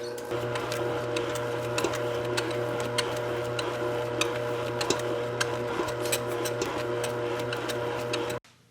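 A Globe SP08 machine runs continuously at close range, a steady mechanical hum with a rapid ticking, printer-like rattle throughout, stopping abruptly near the end.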